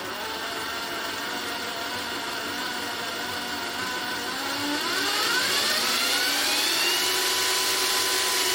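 The motorised gearbox of an Arocs tipper truck model runs through its gears as a steady electric whir. Its pitch climbs and rises in volume partway through as the speed increases, heard up close with no talking.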